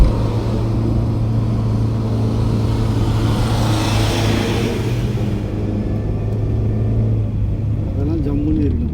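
A 4x4 vehicle climbs a steep hairpin-bend mountain road on the Kalhatti route from Masinagudi to Ooty, its engine giving a steady loud rumble throughout, with a low drone that eases slightly near the end while people talk over it.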